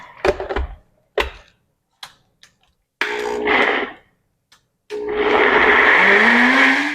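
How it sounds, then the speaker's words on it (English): A kitchen blender whirring through salad dressing for a zucchini noodle salad, in two loud bursts of a few seconds each, the second rising in pitch, after scattered clicks and taps as the lid goes on. "We're going to blend it."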